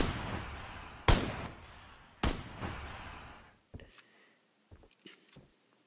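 Two loud, booming sniper rifle shots in the video game Knives Out, about a second apart, each with a long echoing tail, followed by faint scattered clicks.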